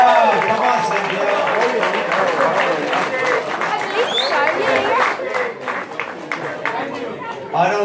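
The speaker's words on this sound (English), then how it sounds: "Let's give her a nice round of applause." Audience applause at a free Christmas dinner hosted at a comedy club, steady clapping and crowd chatter filling the room while a host keeps talking over it.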